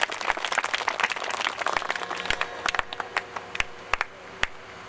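An audience at a Bhojpuri Ram Katha religious gathering in Deoria claps together in a dense burst, then the applause thins to scattered, separate claps before dying away.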